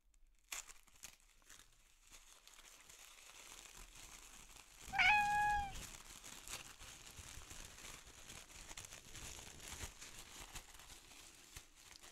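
Art supply packaging is unwrapped with faint crinkling and tearing close by, broken midway by a short cat meow in a quiet room.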